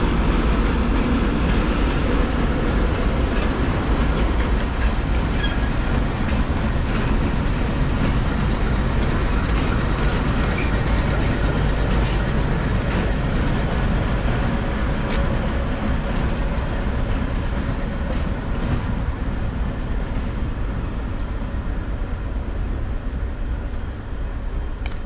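Diesel locomotives shunt railroad cars around Lviv station, giving a steady loud rolling rumble with clickety-clack of wheels over rail joints throughout, heard from nearby without talk.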